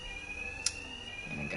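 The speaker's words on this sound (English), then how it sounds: "Covered by the noise of the alarm." A steady, high electronic alarm tone rings continuously in Batman: Arkham Knight, with a brief sharp click partway through and low game ambience underneath.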